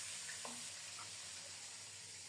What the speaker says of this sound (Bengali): ঢেকে ঢেকে উল্টে পাল্টে মাছের মাথাটাকে লাল লাল করে ভেজে নেব।